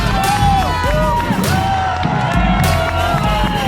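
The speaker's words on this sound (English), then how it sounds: "The London Marathon crowd is absolutely brilliant." Spectators cheer along the London Marathon course, with loud whoops, shouts and sustained calls from a nearby crowd. The noise rises and falls in waves as runners pass.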